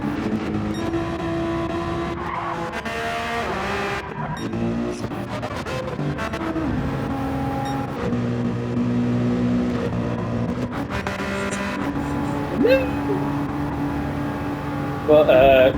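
GT3 race cars roar around Bathurst in a racing video game, a steady engine drone with shifting revs and occasional surges, heard under continuous race commentary.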